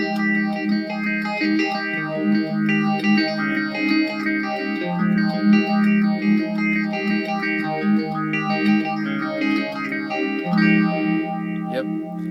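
An electric guitar lick played through a Fuzz Face pedal on a band's pedalboard, with thick distorted sustained notes and bends ringing out steadily, close and alone without talk.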